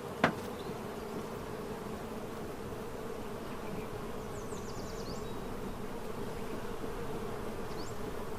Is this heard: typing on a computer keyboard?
no